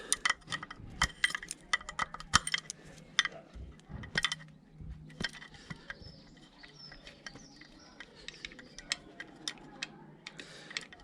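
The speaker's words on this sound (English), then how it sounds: "I'm just going to take the carb floats off, give them a quick clean out" Small metal parts click and clink quietly while the carburetor floats are removed from a Suzuki GS850, with scattered sharp taps and light rattles at close range.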